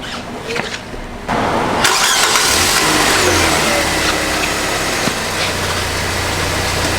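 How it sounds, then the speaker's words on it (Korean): A car engine cranks and catches after a faint clicking start, then settles into a loud, steady idle close by, with no talk over it. "시동 걸고"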